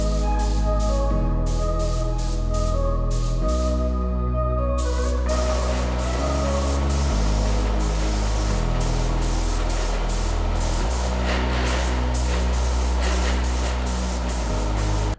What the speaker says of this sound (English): the first thing that I'm going to do is spray with primer mixed with